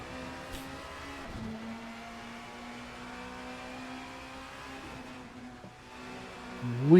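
A touring car racing through the corners of the Brands Hatch Indy circuit, a steady engine whine holding pitch with brief dips at gear changes, then rising sharply in revs at the end, heard alone.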